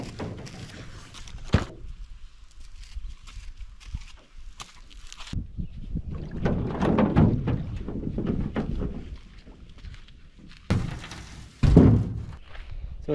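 Camping gear being unloaded from a canoe on a wilderness trip, with scattered close thunks and knocks, hollow bumps against the hull and shuffling movement, including a few sharper loud knocks.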